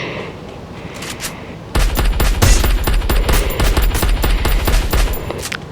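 Automatic gunfire in the video game Free Fire rattles out in loud, rapid bursts after a quieter opening, with shots tightly packed and continuing to the end.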